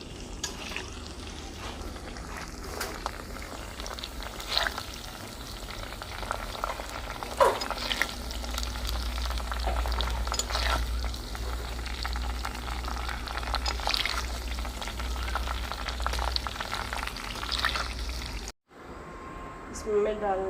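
Okra fries in a pan with a steady, close sizzling hiss and occasional utensil clicks, while a voice talks intermittently over the cooking.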